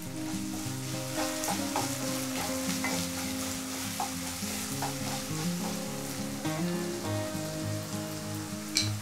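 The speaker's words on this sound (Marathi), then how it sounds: "कैरी जी आहे ती छान अशी फ्राय करून घ्यायची" Raw mango pieces fry in a pan with a dense, steady sizzle and occasional stirring scrapes, continuous and close with no talking.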